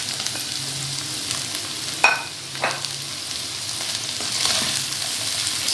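Potatoes, capsicum, cabbage and carrots stirred in hot oil in a pan, a steady soft sizzle with a few sharper scrapes of the spoon, close by and without any talk.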